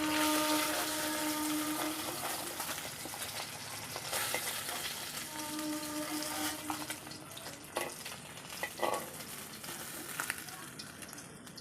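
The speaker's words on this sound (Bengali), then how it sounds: "বাকি মাছগুলোকেও আমি সেমভাবে ভেজে নিলাম" Pabda fish fry gently in oil in a pan, giving a steady broadband sizzle with faint tonal hum and occasional clinks of a utensil, continuous and close with no talking.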